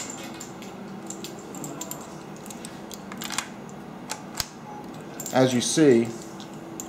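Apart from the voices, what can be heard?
loading rifle cartridges into an AR15 magazine with a lever loader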